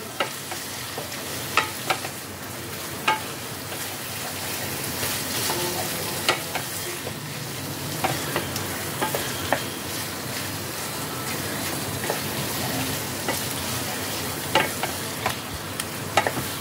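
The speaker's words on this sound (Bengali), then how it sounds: "এইবার পনিরটা দিয়ে কাসুরি মেথি আর ধনেপাতাকে ভালো করে মিশিয়ে নিচ্ছি।" Paneer bhurji with kasuri methi and coriander is stirred in a pan, giving a steady close sizzle punctuated by regular sharp scrapes and taps of a spatula against the pan.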